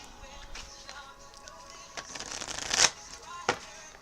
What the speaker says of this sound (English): So here I go, shuffling my cards.